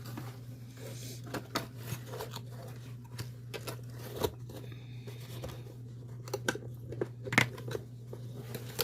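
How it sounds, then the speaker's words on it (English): Crunched-up black paper packing in a nail-polish subscription box being handled, giving sporadic soft crinkles and sharp crackling snaps over a faint steady hum, close and quiet. "Love the crunched up black paper."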